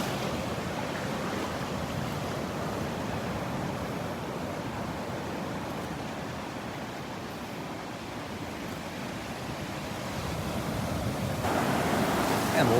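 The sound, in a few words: ocean waves on beach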